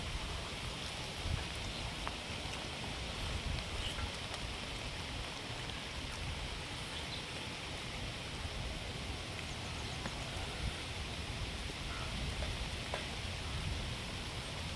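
Steady rain pours down evenly by a riverbank in a dense continuous hiss, with scattered drops tapping nearby and no voices.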